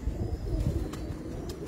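A pigeon coos in a short, low, continuous burble up close, with no voices.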